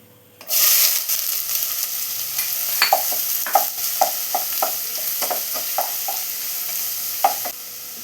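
Chopped onions drop into hot coconut oil in a pan for Kerala-style chicken puttu, a sudden loud sizzle that settles into steady frying, punctuated by repeated scraping stirs of the spatula.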